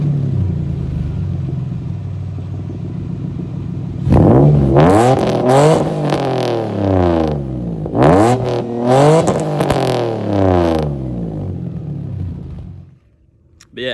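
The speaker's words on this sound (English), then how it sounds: "with that silencer out, this car absolutely roars" A car engine revs hard several times through an open exhaust with the silencer removed, loud and close, each rev rising and falling with a throaty roar before dropping away.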